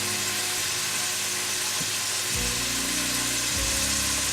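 Garlic and onions sizzling in a pan while making carrot ginger soup: a steady broadband hiss of frying, loud and close, with a constant hum and faint tonal whine running underneath.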